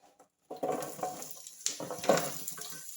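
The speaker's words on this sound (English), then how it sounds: "Yeah, that's a nice sizzling sound you hope for." Onions hit a pan of garlic-infused olive oil and start to sizzle, a bright crackling hiss that rises sharply after a brief silence and continues with bursts as they are stirred.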